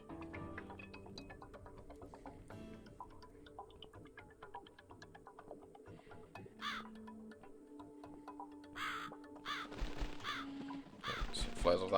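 A crow caws in the video game The Cat Lady, several harsh calls toward the end over quiet ticking and ambient game sounds, with a person talking quietly through parts of it.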